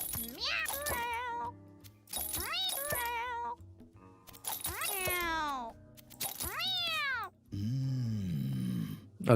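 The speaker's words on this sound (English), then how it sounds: "that one is just moaning instead of purring." Cat voices from the video game Mewgenics meow and moan in a series of drawn-out, wavering calls separated by short gaps, loud and close, ending in a lower, rougher moan.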